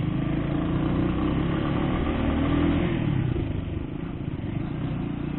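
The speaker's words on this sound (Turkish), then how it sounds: "Egzozundan şu rahatsız edici ses illaki gelecek." A motorcycle's exhaust rumbles steadily nearby, a continuous low, rough engine drone with slight revving swells and no speech.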